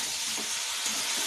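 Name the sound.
tomatoes added to hot pan, sizzling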